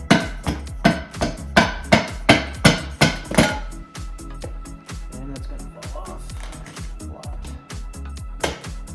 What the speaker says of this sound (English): we're just going to hammer this thing like we did before